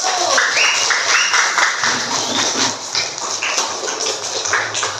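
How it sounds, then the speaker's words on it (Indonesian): A classroom of students claps for group 1 after their presentation, a dense, lively burst of close hand claps that carries on steadily for several seconds with slight rises and dips. "tepuk tangan untuk kelompok 1"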